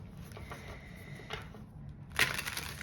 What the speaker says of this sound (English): Let me just give these a good shuffle here.